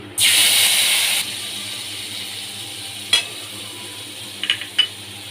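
Cumin, nigella seeds and a green chili hitting hot oil for a fish curry, a loud sharp sizzle bursting up for about a second, then a faint steady hiss with a few clinks of a utensil.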